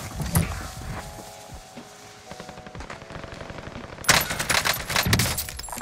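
Mac 10 submachine gun firing in Call of Duty Warzone, a gold-camo weapon in rapid automatic bursts that grow louder and denser near the end, with game effects mixed in and no talking over it.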